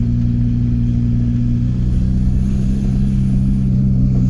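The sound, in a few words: VW T25 van with swapped TDI engine driving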